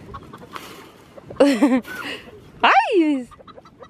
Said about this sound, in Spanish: Quédate con el gallo.